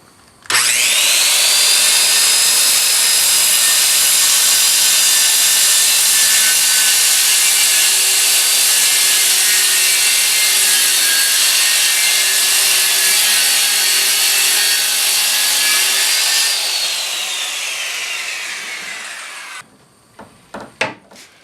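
A track saw spins up and rips through a wooden board in one continuous, loud, high whine lasting about seventeen seconds, then winds down, followed by a few close knocks and handling clatter.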